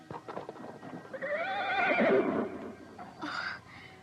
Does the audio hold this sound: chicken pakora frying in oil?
no